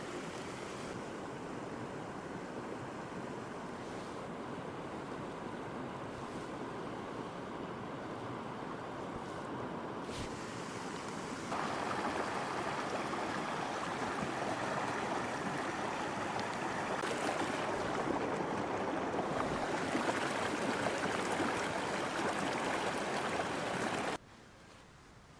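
A rapid creek in northern Alabama, swollen by two days of heavy rain, rushes in a steady, loud broadband roar, with some wind buffeting the microphone, until it cuts off abruptly near the end.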